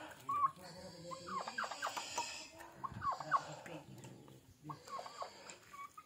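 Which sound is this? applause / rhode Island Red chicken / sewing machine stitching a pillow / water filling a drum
rhode Island Red chicken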